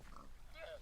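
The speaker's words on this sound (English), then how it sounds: "I've got some pigs." Pigs in the blocky video game Minecraft give a quick faint grunt or two at close range, heard softly over a quiet background.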